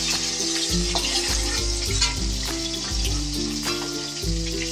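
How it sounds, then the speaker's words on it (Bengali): Pangas and tengra fish fry in hot oil until reddish-brown, making a continuous close sizzle and crackle over a low, shifting hum underneath. "মাছগুলো আমার ভাজা হয়ে গেছে আমি এবার তুলে নেবো বন্ধুরা এরকম লাল করে কিন্তু মাছটা ভাজলে খুব ভালো হবে"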